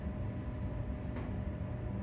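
A Cranbourne line train rolls into Cranbourne station under a road bridge, heard from inside as a faint, steady rumble with a thin high whine.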